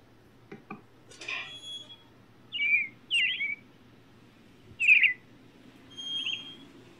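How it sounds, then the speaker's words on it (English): A bird in the Spoon Theory video game gives several short, high, clear chirps in separate bursts, fairly close and heard alone against a faint background hum. "You gotta feed the bird."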